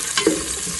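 Mustard seeds and ginger frying in hot oil in a pan, a short burst of sizzling and spattering that rises briefly and then settles into a steady low crackle.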